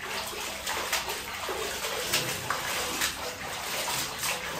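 Red-tinted water is poured during a bath, making a continuous close rush of splashing and sloshing water that stays steady throughout with no talk.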